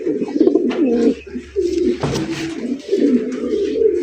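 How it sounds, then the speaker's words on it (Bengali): Fancy pigeons kept in an outdoor cage coo steadily in low, rolling calls, several birds overlapping in a continuous near chorus with a brief sharper noise midway. "কবুতরের যে এত ডাক, যা বলার মতো না"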